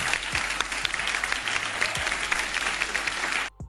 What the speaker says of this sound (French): il y a beaucoup de blancs qui sont en train d'applaudir